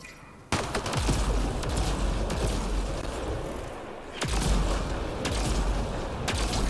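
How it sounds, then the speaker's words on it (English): Rapid bursts of gunfire in the sci-fi shooter Mass Effect Andromeda, loud and close, with sharp volleys at the start and again midway over a steady battle din. "How are those shots all just going through him?"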